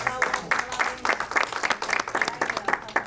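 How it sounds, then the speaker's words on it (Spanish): A church congregation applauds, with bursts of clapping arriving in a loose rhythmic pulse, close and fairly loud, a few voices faintly mixed into the clapping. "Un aplauso, río del cielo."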